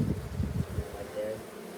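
Honey bees hum in a low, steady drone inside an open hive during an inspection, close and continuous.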